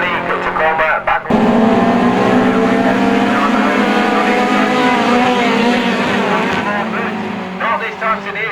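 Autograss race cars on a dirt track at St Neots: a loud, dense engine roar of several cars revving hard together, holding steady before easing slightly, with a commentator talking over it.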